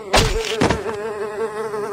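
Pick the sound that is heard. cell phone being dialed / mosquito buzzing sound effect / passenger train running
mosquito buzzing sound effect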